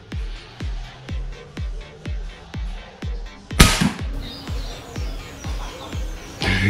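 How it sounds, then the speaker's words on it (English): Air rifle shooting Inferno 25.4 grain pellets into clay, a regular series of about ten sharp cracks spaced roughly half a second apart, with one louder, brighter impact burst midway. "just shoot a couple of shots for the regulator to settle"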